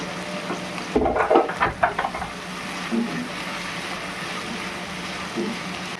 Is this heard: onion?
yes